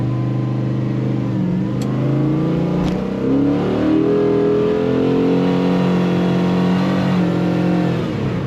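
A 1957 Chevrolet Bel Air restomod with an LS3 V8 and automatic transmission accelerates on the road, its deep rumble rising and shifting pitch through gear changes, loud and close throughout.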